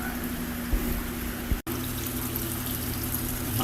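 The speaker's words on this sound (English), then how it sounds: "we are adding more water to these gars" Water pours steadily into a fish tank holding gar, a continuous broadband splash and trickle at moderate level with a brief dropout partway through and no talking.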